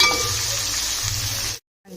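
Onions and curry leaves frying in hot oil give a steady, close sizzle with light metallic clinks, then the sound cuts to near silence for a moment before resuming faintly.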